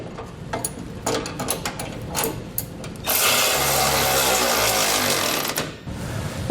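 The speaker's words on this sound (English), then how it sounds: "we'll tighten up our hex head bolts with a 23mm socket" Hex head bolts on a Curt trailer hitch receiver being tightened on a 2020 Chevrolet Silverado 2500 with a 23mm socket: a string of rapid ratchet clicks, then a sustained louder whirring burst from about three seconds, close up.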